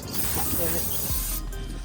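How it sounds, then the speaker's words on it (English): Aerosol brake parts cleaner sprayed onto the valve cover of a 2015 Honda CR-V with the K24 engine, a steady close hiss lasting over a second before it cuts off. "I'll just spray it with this real quick."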